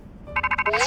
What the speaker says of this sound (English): Oh, a phone ring?